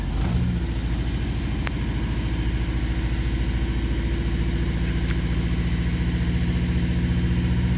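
A rebuilt car engine idles steadily while warming up, a close, even low rumble that holds for several seconds with no speech.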